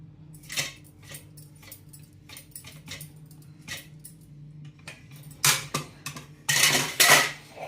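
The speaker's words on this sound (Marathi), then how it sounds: "आता मिक्सरच्या भांड्यात पहिल्यांदा काकडी घालायची." Cucumber pieces drop into a steel mixer jar, giving clattering knocks and clinks, a few light taps early on and louder bursts of clatter near the end, close by with no talk.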